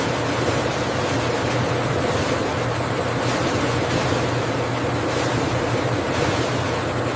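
Water surges and churns through a flume as apples are washed in a modern American factory, a loud, continuous rushing wash with faint rhythmic swells and no voices.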